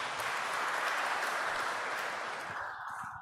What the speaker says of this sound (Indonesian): Boleh tepuk tangan untuk mempelai.